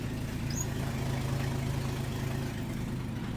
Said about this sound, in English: I can hear a rod knocking now